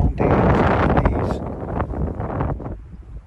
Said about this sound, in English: Very, very heavy, windy.